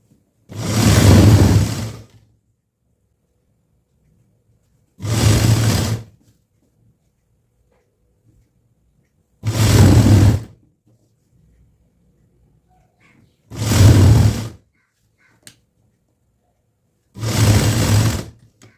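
A tailoring sewing machine stitches blouse lining fabric in five separate bursts of whirring, each lasting about a second or two, with silence between them.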